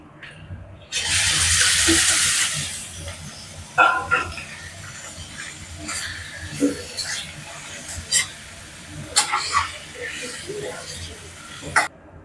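Raw chicken drops into a pan of sautéed small onions with curry leaves for a chicken thokku, setting off a loud two-second sizzling burst that gives way to quieter crackling and intermittent stirring clatter.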